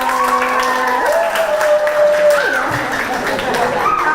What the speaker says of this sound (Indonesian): Tepuk tangan dong untuk semuanya